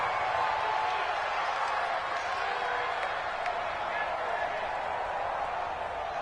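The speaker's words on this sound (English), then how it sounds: "Listen to this crowd now." Stadium crowd noise in the Madden 20 football video game during a tense final-minute two-point conversion, a steady, dense roar of cheering and clapping that fills the whole stretch without letting up.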